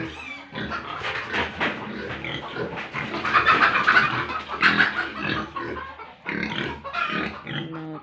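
Snuffling grunts and snorts from a pig, close by and fairly steady, with occasional squeaky, higher-pitched noises mixed in.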